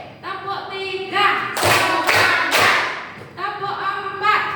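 A class claps hands together in rhythm, a few loud sharp bursts of group clapping set between stretches of chanted voices.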